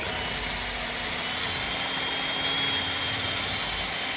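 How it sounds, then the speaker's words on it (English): A power drill whirs continuously at close range while drilling a pilot hole, a steady buzzing motor noise that holds without pause. "now I'm going to drill my pilot hole"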